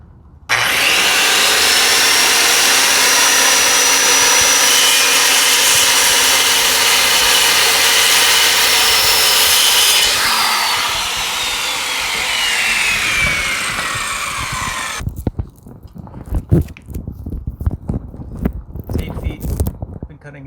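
A power saw cuts wood for a shed in a long, loud, continuous whining cut lasting about fifteen seconds, its pitch dropping near the end, followed by clattering wood and handling noises.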